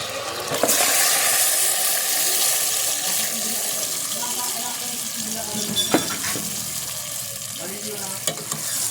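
Adobo meat, marinated for an hour, is stirred in a hot pan, giving a loud, steady sizzle with watery bubbling and occasional scrapes throughout, heard alone.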